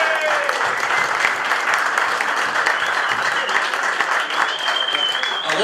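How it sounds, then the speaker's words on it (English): Audience applause for former Socceroo captain John Doyle at a football club's 70th anniversary event, a steady, dense clapping from a full room that holds evenly for several seconds. "Give him a round of applause."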